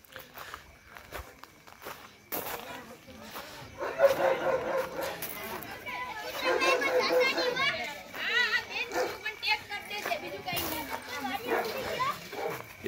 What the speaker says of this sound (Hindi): एक से दो भौंकने की आवाज है